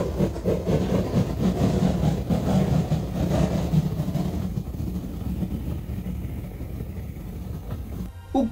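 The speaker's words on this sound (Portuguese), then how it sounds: "O que você ouviu? Um som de trem." A train sound effect gives a rumbling, clattering rolling noise, loud and dense at first, then thinning into a quieter steady hiss before a brief burst at the very end.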